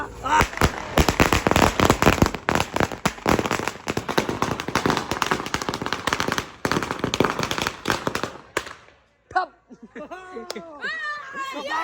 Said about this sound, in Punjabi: ਇੰਨੀ ਲੰਬੀ ਲੜੀ ਆ 300 ਪਟਾਕੇ ਦੀ